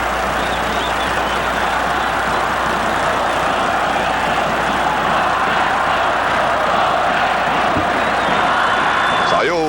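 Vasco da Gama football supporters fill a stadium with a continuous loud roar of cheering and chanting during a 1981 match against Internacional, with a commentator's voice over the crowd.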